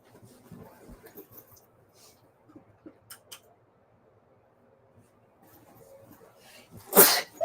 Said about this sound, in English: Bless me. See, it's sneezing.